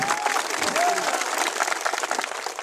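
Applause from a crowd at a Hindi-language political speech after a meeting with a victim's family, dense continuous clapping filling the whole stretch, fairly loud and steady, with a brief whistle-like tone rising through it.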